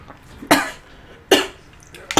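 Three harsh coughs spaced about a second apart, loud and close, with quiet breathy background between them and no speech.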